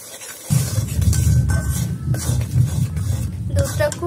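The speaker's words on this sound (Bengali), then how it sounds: "দিয়ে দিচ্ছি গুঁড়ো দুধ, এটাকে ভালো করে মিশিয়ে নিচ্ছি।" Powdered milk being stirred into a semolina laddu mixture, a steady scraping and stirring sound that runs continuously and fairly close after a short quiet start, with no talk over it.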